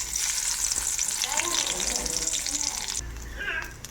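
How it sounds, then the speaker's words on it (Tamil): Garlic dropped into hot oil in a pan sizzles close and steadily, with light scraping and shifting noises over four seconds, easing slightly toward the end. "எண்ணெய் ஊற்றி பூண்டு போட்டுக்கிறேன்."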